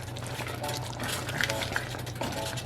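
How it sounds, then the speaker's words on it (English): A spoon stirs a pot of Jamaican Ital stew peas with dumplings, giving soft scraping and sloshing over a low simmering hum, close and steady with no talk. "we're just going to give this a stir"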